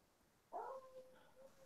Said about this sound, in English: My brother's dog is barking incessantly again.